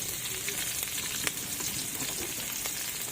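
Garlic frying in a pan of hot oil with ginger, a close, steady crackling sizzle with small pops throughout and no talk.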